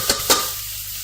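Onions and garlic hit a hot pan and are stirred, giving two quick bursts of sizzle followed by a steady, close frying hiss with no voices.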